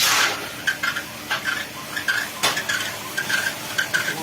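Rice stirred in three kadais to make puffed rice, with rhythmic scraping strokes repeating about twice a second and a steady dry sizzle, heard close with no talking.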